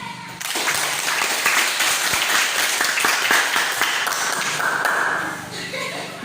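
Classroom applause for a student group that has just presented, a dense burst of many hands clapping that lasts several seconds before tapering off, with a voice briefly over it.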